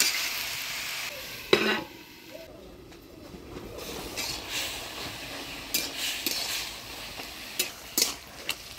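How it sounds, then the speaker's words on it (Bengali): Spinach and eggplant stirred in a pan with green chillies, giving a soft sizzle broken by a few clattering scrapes and knocks of the spoon, with faint background noises. "বেগুনের সাথে পালং শাকটা আমি ভালোভাবে নাড়াচাড়া করে নিলাম।"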